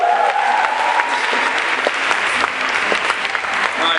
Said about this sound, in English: Everyone, give them one more round of applause.